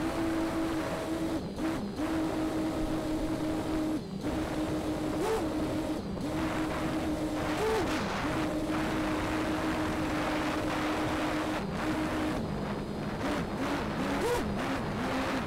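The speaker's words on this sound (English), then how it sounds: "The drone now starts descent automatically." An FPV drone returns on its own in Betaflight rescue mode, giving a steady motor whine with shifting pitch that holds throughout, loud and close, with no talk.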